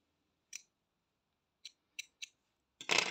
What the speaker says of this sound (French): on va couper le fil